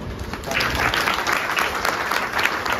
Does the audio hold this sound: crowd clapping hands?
yes